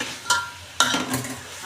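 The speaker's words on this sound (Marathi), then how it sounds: "कांदा पण तेलावर चांगला असा परतून घ्यायचा" Onion sautéing in oil produces two quick scraping stirs with bursts of sizzle, brief and close against a low background hiss.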